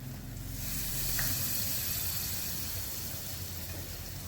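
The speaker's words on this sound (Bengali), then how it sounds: "কিছু কাঁচা লঙ্কা কুচি দিলাম।" Chopped green chillies sizzle in a hot pan, giving a steady, moderately loud hiss that holds evenly throughout with no talking.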